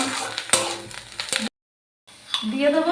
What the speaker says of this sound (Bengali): এই যে দিয়ে দিচ্ছি সামান্য জিরে